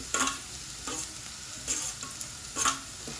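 Onion with salt, curry leaves and green chilli sautés in a pan for aloo bonda filling, a constant sizzle broken by three distinct scraping stirs, close and alone.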